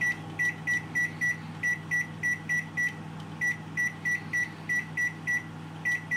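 Close, sharp electronic beeps from a microwave oven as its timer is set for a baked jacket potato, about fifteen evenly spaced bleeps in quick succession with a short pause partway through, over a low steady hum; no one talks.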